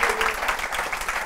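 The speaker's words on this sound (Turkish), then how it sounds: "Alkışlıyoruz Serena ya." Brief burst of studio audience applause on a Turkish late-night talk show, a short even wash of clapping lasting barely over a second, moderately loud.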